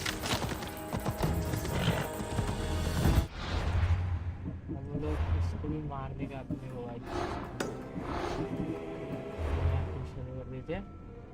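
Horse hooves clip-clop in Assassin's Creed Odyssey gameplay, a rhythmic galloping patter beneath game music and effects, with voices speaking over it and a neigh-like cry.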